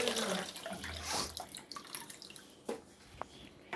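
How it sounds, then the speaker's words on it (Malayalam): Tamarind water is poured into a simmering curry, a soft trickling splash with faint drips close by, quiet and brief, ending in a few small clinks. "അതിനുശേഷം പുളി ഒഴിക്കുക"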